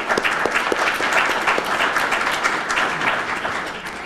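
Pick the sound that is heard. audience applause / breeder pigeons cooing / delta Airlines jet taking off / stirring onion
audience applause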